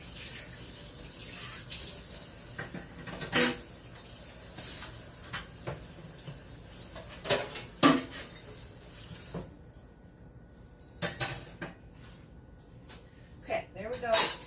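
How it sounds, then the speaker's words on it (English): Dishes are loaded into a kitchen dishwasher, with sharp intermittent clinks and knocks scattered among stretches of running water, some close and loud, others softer. "Put the rest of my stuff here in my dishwasher."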